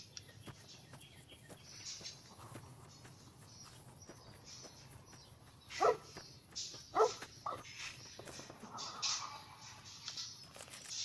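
Dog barking in the video game Fallout: New Vegas, a few medium-distance barks and short whines in a quiet outdoor scene with insect chirps and faint ambience.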